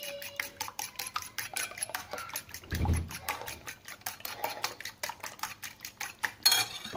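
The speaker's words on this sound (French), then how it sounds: "je vais battre mes œufs" Eggs beaten with a fork in a plate give quick, rapid metallic clicks and taps against the dish, a close, fairly quiet rhythmic whisking with no talk.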